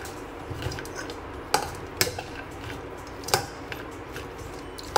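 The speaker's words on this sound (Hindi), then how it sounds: "नेक्स्ट बेल पेपर, कर देंगे मिक्स मिक्स मिक्स" Tossing a salad with bell pepper in a bowl, with soft scattered clinks and taps of utensils against the dish, fairly quiet and close, and no talking.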